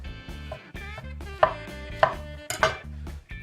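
Button mushrooms sliced with a kitchen knife, a series of crisp, close chops landing at an uneven pace against the board over steady low background music.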